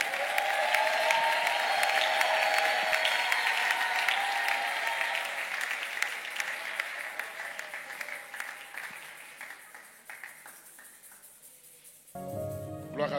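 A crowd at a church gathering applauds and cheers, loud sustained clapping that slowly fades, then a short burst of noise near the end.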